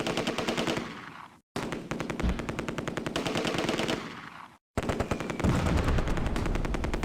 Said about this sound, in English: they are sitting back and pounding my positions with preparatory fire from mortar and machine guns